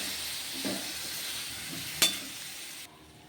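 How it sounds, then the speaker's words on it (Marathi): Finely chopped eggplant is mixed into an onion masala in a pan. A steady close frying sizzle carries soft stirring movements and one sharp utensil knock partway through. "आता आपण यामध्ये बारीक कट केलेले वांगे घालून घेऊया छान मिक्स करून घेऊया"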